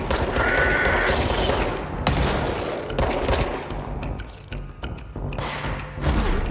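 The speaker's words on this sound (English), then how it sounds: "Who the fuck are shooting rockets?" Rocket fire and explosions in the video game Control, a dense, loud barrage of blasts and gunfire rumbling continuously with sharp impacts scattered throughout.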